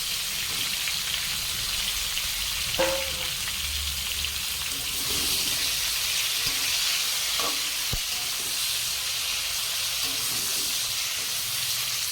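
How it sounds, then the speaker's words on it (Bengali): Pointed gourd (potol) fries in oil in a wok, a continuous crackling sizzle like light rain, with a couple of faint utensil clinks scattered through it. "ওই কড়াইতেই তেল দিয়ে পটলগুলো ভেজে নেব।"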